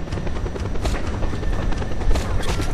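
Helicopter in the video game Just Cause 2: a loud, continuous rotor roar with a dense, churning low rumble and scattered thumping bursts throughout.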